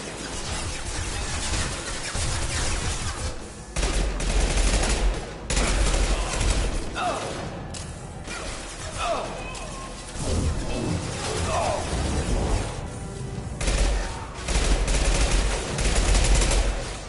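Sustained bursts of gunfire fill a Mass Effect Legendary Edition firefight against offloading enemy troops, loud and dense with rapid volleys, impacts and crashes throughout, and a voice speaking over the shooting.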